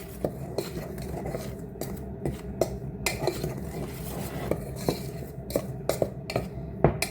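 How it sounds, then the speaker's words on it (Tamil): Flour and salt being mixed by hand in a bowl for sweet kuzhal puttu, heard as soft continuous rubbing and stirring with scattered light clinks and taps against the bowl, fairly close and steady, with no talking. "உப்பையும் போட்டு எல்லாத்தையும் கலந்து விடுவேன்"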